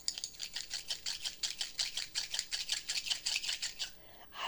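Close, quiet scratchy rubbing of two pencils against each other, a steady rhythm of about four quick strokes per second, alone without talking.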